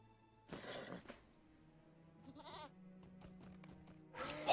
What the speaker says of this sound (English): It did bleat.